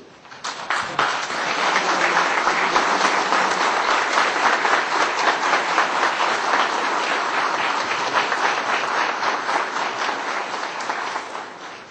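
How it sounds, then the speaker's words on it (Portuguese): Standing audience at an event gives organizers a long, warm round of applause, dense, loud and sustained clapping from many hands rising quickly and fading slightly at the end. "saudemos com a calorosa salva de palmas os organizadores deste evento"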